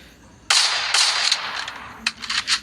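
Gunfire from a shooting video game, a sharp burst of rapid shots followed by a few scattered cracks, loud and close, with no speech.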